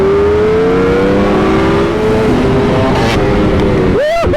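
A BMW M 1000 RR and a Ducati Panigale V4 R race hard, a loud, steady engine whine climbing in pitch before a quick drop and rise as gears change, close up and unbroken.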